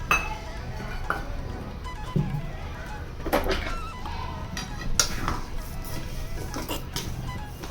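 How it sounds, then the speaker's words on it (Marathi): Sweet sheera being stirred in a pan, offered as naivedya: a spoon scrapes and clinks against the metal in irregular strokes, with a few sharper knocks, close by and fairly quiet. "शिरा हलवून घे."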